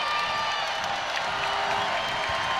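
A packed arena crowd at an Iowa at Illinois Big Ten women's college basketball game roars steadily after a missed free throw, a dense wash of cheering and shouting that holds at the same loud level throughout.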